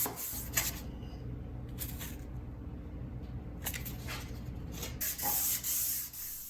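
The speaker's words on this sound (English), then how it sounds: "I do the whole frame with this sanding block because it helps me get nice crisp edges" A wooden frame is hand sanded with a 500 grit paper on a sanding block, giving a soft, steady rubbing scrape in repeated strokes, close and fairly quiet, with no talking.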